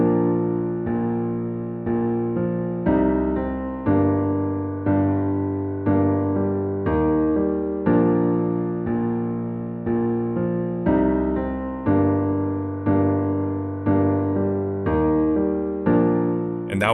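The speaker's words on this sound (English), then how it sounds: "then I sat down at the piano and wrote the main theme for the film" A solo piano plays the slow main theme of a film score for a Grand Teton short film, with evenly paced chords that ring and fade one after another. It is clear and unaccompanied.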